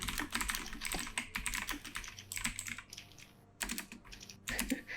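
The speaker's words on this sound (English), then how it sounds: "Oh, keys. And typing." Rapid typing on a computer keyboard, busy clustered keystrokes with brief pauses, close and fairly faint, picked up during an online tabletop game session.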